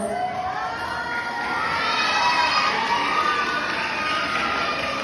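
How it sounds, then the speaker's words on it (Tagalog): Pageant audience cheering, shouting and whooping loudly, a continuous excited crowd roar with high voices that swells slightly after the first second and holds steady. "Bakit hindi po natin sabay-sabay palakpakan at hiyawan Binibining Sanya Lopez?"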